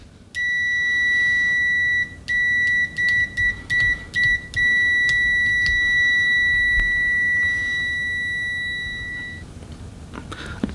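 Continuity beeper of an ANENG SZ20 budget multimeter with stock test leads: a loud, steady high-pitched tone, first one long beep, then several short broken bursts, then a long sustained tone lasting several seconds before cutting off.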